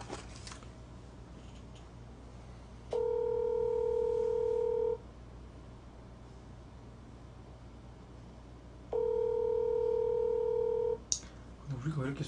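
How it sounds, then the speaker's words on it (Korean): A phone call rings out with a slow ringback tone: two long, steady electronic tone bursts spaced several seconds apart, with a quiet room and faint voices around them. "이거 신호음이 약간 무섭게 맞냐? 신호음이 좀 약간 느리다."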